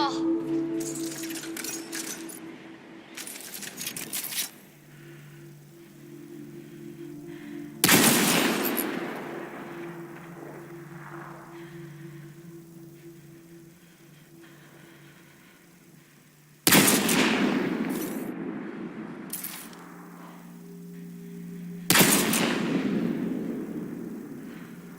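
Gunfire in the video game Mass Effect Andromeda, with sharp loud weapon bursts striking at intervals over a low ambient game hum, each blast followed by a decaying echo.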